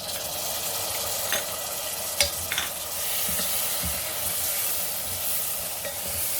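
Tomatoes fry in a pan with red chilli, coriander and turmeric powders for a Sindhi ridge gourd curry, a steady close sizzle broken by a few sharp scrapes and clinks of stirring.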